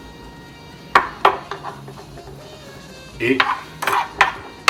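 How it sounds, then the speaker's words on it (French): Potato purée being mixed into choux pastry dough for pommes dauphines, a spoon or spatula knocking and scraping against a bowl in scattered clusters of hits, with a brief spoken word. "de nouveau bien mélanger pour obtenir la pâte à pommes dauphines"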